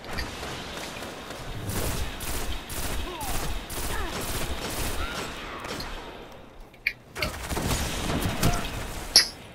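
Heavy rifle fire in the online shooter Destiny: The Taken King, a free-for-all Rumble match, comes as dense rapid bursts through the first six seconds. A short gap follows, then more shots and impacts resume.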